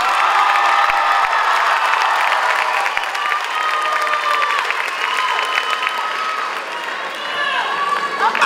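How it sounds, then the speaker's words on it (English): A high school commencement crowd applauds the graduating class of 2019, a loud wash of clapping mixed with cheers, whoops and shouting that swells, dips briefly near the end, then rises again. "a round of applause for the class of 2019"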